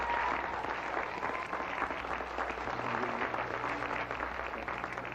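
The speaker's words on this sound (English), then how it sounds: "Give him a big round of applause" An audience applauds a high school principal at a fire safety show, a continuous dense patter of clapping heard alone at moderate level.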